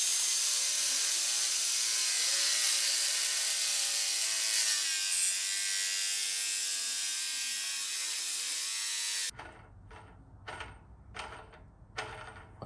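A tube notcher cuts into a metal piece with a loud, continuous grinding whine for several seconds, then stops, followed by a few separate scraping and clunking strokes.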